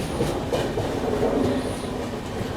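Indian passenger train hauled by a push-pull WAP7 electric locomotive, a steady loud rumble of wheels and carriages heard close by, with faint metallic squeals above the roar.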